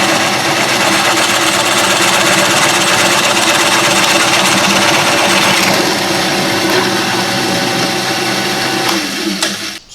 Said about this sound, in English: What was that noise? That was the clutch.